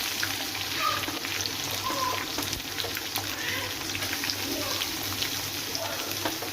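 Onion and tomato sautéing together in a pan, a continuous close sizzle with faint scraping and stirring noises, steady throughout.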